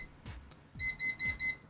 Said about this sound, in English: you hear those 5 quick beeps